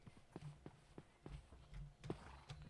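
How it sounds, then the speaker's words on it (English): A baby horse walks in the Minecraft video game, giving soft, evenly spaced hoof clip-clops, close and fairly quiet, with no talking over them. "Baby horse."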